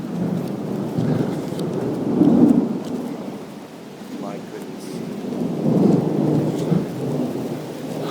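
Heavy rain with rumbling thunder during a New Hampshire thunderstorm, two broad swells of low rumble over a steady wash of rain, with people talking and exclaiming nearby.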